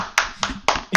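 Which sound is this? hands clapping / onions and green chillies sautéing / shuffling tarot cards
hands clapping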